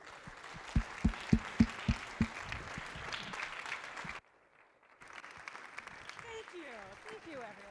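A demo day audience applauds the founder and CEO of True Flood Risk: a few sharp, close claps over a wash of crowd clapping that cuts off abruptly, then a short silence before a voice starts talking.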